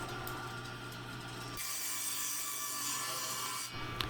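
Hand sawing through a scrap of sanded plywood coated with polyurethane to trim half an inch off, a steady, close rasping stroke that grows louder midway and then stops.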